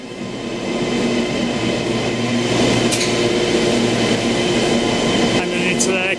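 A train pulls into a station, a loud continuous rumble and hiss of rolling cars with a couple of brief high squeals near the end.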